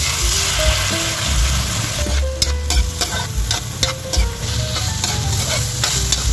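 Soy-marinated pork liver sautés with onion in a hot pan, a steady loud sizzle of frying running throughout with repeated scraping and stirring clatter, for a chopsuey with quail eggs.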